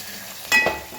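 Spiced gravy with Kashmiri chili, coriander-cumin powder and salt frying in a pan and being stirred, a short close sizzling burst about halfway through over a quiet background.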